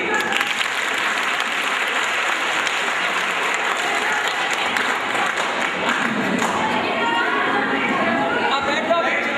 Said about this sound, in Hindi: एक बार करण जी के लिए ताली।